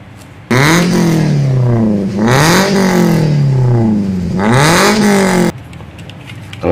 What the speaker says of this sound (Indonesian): Kita dengarkan suara knalpot racingnya.